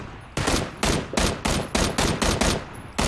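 Rapid gunfire in PUBG, a run of about ten loud, sharp shots in quick irregular succession, close and dominant with no talk over them.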